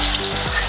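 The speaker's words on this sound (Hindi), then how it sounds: "अभी इसको कलर आने तक तलना है, बड़े गैस के ऊपर ही तलना है।" Salted potato chunks for dhaba-style aloo do pyaza fry over a high flame, giving a brief, loud, close crackling sizzle with no talking.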